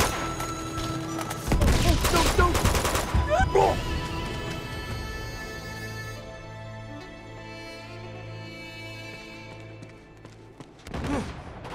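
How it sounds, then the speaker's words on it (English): Bursts of gunfire in the video game Uncharted: Among Thieves, a loud cluster of shots early on followed by quieter rumbling and a final short burst, with voices under the action. "What the hell are they shooting at?"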